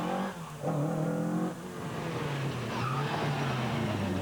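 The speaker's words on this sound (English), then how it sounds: "cars running at 30-second intervals, just a little further on the stage" A rally car on a Jersey stage races past at speed, its engine revving hard through gear changes with rising and falling pitch, loud and close throughout, tyres scrabbling under the roar.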